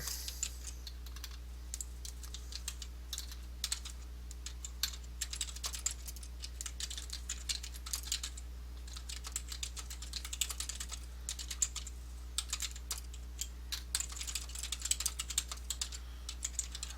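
Steady keyboard typing on a computer, rapid irregular clicks in bursts over a low constant hum, close and fairly quiet with no talking.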